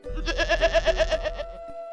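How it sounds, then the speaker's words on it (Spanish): A goat lets out a single wavering, vibrato bleat, loud and near, lasting just over a second before fading into a quiet background hum. "las cabras"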